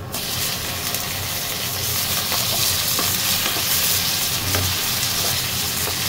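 Tomatoes added to lightly browned garlic in a pan, frying with a loud steady sizzle and occasional scraping stirs, close and continuous, for a black chicken tinola.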